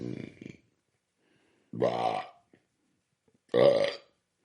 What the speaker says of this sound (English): So the hot mess in the meat, in the wine, apparently makes me belch.